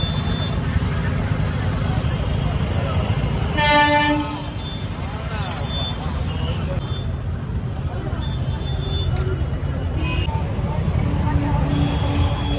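Traffic stuck in a heavy jam at the Baruipur rail gate, with engines idling and a loud horn blast partway through, followed by fainter scattered toots. A person talks over the steady traffic rumble.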